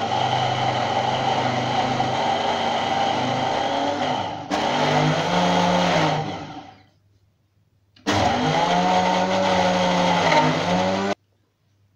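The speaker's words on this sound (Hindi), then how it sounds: "साथ ही नमक और हल्दी डाल देंगे। और एक दफा फिर ब्लेंड कर लेंगे।" Electric blender whirring through ginger paste with salt and turmeric, a loud steady motor drone that shifts pitch as the mix thickens, cuts out, then starts again for a second burst before stopping abruptly.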